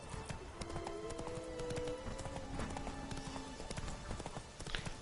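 Roach, a horse in The Witcher 3 video game, gallops with a steady, rapid clip-clop of hooves close by, a continuous rhythmic pounding over game background sound, with no talking.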